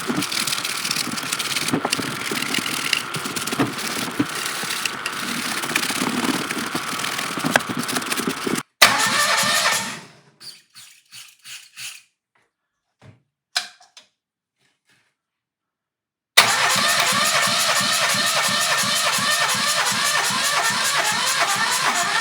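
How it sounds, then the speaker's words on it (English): Tiny seized engine, freshly rebuilt, being cranked to start: a rough mechanical churning runs for several seconds, then sputtering ticks and near silence, then a loud steady mechanical running sound resumes and holds to the end. "see if the engine will start"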